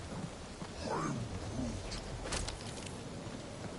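Rain falls steadily in the game Guardians of the Galaxy while thunder rolls through, with a sharp crackle partway in and a few faint bird calls over the wet hiss.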